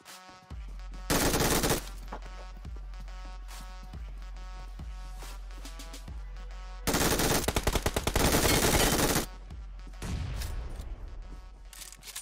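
Bursts of automatic gunfire ring out in the mobile battle royale game PUBG Mobile, with long loud rapid-fire volleys separated by single echoing shots and quieter pauses.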